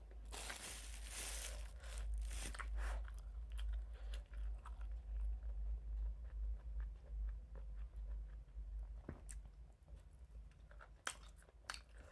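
Someone chews a lunch of crunchy and chewy food, giving close, quiet crunching and mastication that runs steadily with a few sharper bites near the end. There is no talking.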